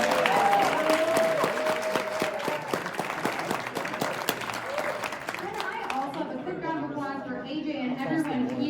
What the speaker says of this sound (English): Can I have one more huge round of applause for everybody?